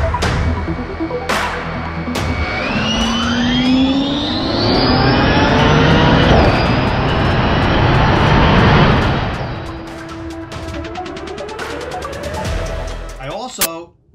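An all-electric Ford Cobra Jet Mustang drag car makes a 1,400 hp run, a loud rising electric whine sweeping upward over several seconds, then fading, with sharp clicks and a lower tone returning near the end.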